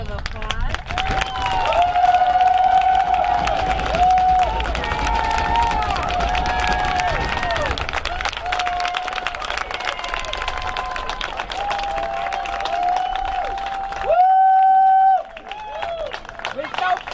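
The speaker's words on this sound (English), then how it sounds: "give them one more round of applause" A crowd claps and cheers for a 5th grade class at a school moving-up ceremony, a loud, continuous ovation with whistles and tonal sounds over it and chatter mixed in, dropping out briefly near the end.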